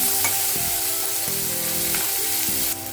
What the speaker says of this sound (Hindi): अभी हम डाल देंगे ये टोमेटो, लहसुन और अदरक, ये हम पूरे डाल देंगे। ये डाल के अच्छी तरह भून के लेना है।